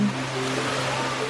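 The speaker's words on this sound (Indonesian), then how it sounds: "Udah sampai nih ke air terjun kedua." The Kedung Pedut waterfall in Jogja pours with a steady, dense roar of falling water, close and continuous throughout the short moment.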